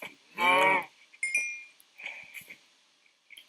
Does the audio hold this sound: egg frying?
no